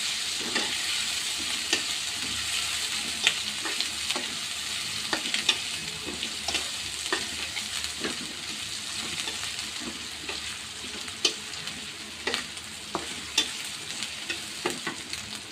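Carrots sizzling and frying with chicken in a pan, a steady hiss of oil broken by frequent sharp clicks and scrapes of stirring, close and fairly loud throughout.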